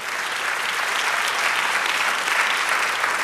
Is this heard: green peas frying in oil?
no